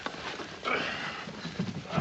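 Horse hooves clopping on the ground alongside brief shuffling, with a faint whinny mixed into the busy outdoor noise.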